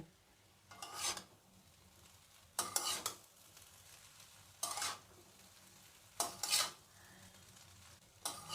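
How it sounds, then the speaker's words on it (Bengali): Intermittent scraping and stirring in a pan as fried egg is mixed into Maggi noodles, several short bursts of a spatula rasping against metal separated by quieter low background. "ডিম ভাজাটা এবার মিশিয়ে নেবে।"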